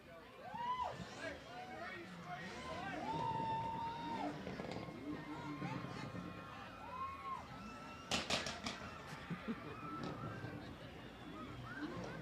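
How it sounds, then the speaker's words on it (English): A single sharp crackling pop bursts out like a firecracker in the distance, amid outdoor chatter and background bustle at a Christmas parade in Temple. "Sounds like a firecracker."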